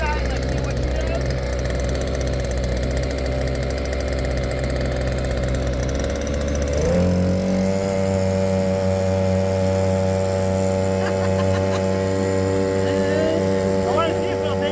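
Small 2.3 HP outboard boat motor on a kayak pushed to full throttle, its steady droning hum shifting up to a higher, stronger whine partway through and then holding loud and constant.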